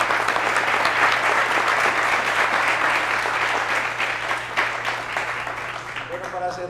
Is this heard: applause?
yes